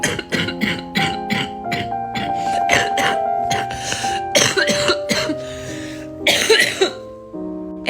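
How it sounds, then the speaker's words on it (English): Repeated wet, chesty bronchitis coughs and throat clearing from a nearby person, coming in bursts among ringing, tonal background sounds. "It actually hurts my throat and my chest so bad when I cough."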